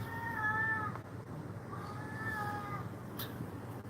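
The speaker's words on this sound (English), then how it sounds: "Sounds like a cat's in heat." A cat in heat yowls outdoors near a street perimeter, two long wavering moaning cries over steady radio-like background hiss, the second following a brief pause.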